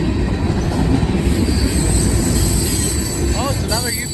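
A Union Pacific freight train rolls past at Glendale, Ohio, loud and close, with steady heavy wheel rumble and rail noise throughout and squealing wheel flanges rising near the end.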